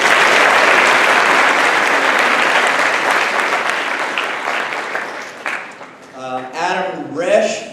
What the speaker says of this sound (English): let's give Kyle Peach and Radio TV a round of applause